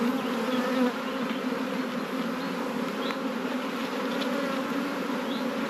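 Honeybees drone in a steady, dense buzz close around an opened hive, continuous and fairly loud with no pauses throughout.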